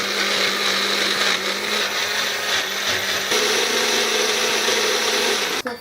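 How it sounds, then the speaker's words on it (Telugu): A mixer grinder blends onions into a smooth paste, giving a loud, steady motor whir with grinding rattle that runs continuously for several seconds before cutting off at the end. "ఒక మిక్సీ జార్ లో వేసుకొని పేస్ట్ చేసేసుకుందాం"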